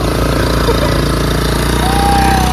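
At a beach, an ATV quad bike's engine idles and runs with a steady, loud, throbbing hum close by, unbroken throughout, with faint voices beneath it.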